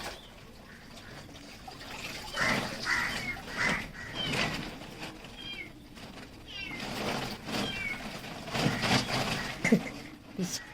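A cat trapped in a well gives several thin, rising meows, echoing and moderately faint, with people talking around it.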